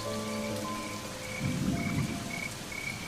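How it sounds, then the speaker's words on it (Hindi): Steady, heavy rainfall hisses throughout while a low roll of thunder swells midway and fades, with faint insects in the background. "इतनी बारिश को भी आज ही आना था।"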